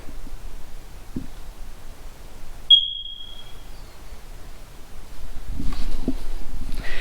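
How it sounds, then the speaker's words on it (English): A single short, high-pitched electronic chirp from a carbon monoxide detector's low battery sounds once in a quiet room, followed by some faint rustling and shuffling. "trying to figure out which smoke detector has a low battery"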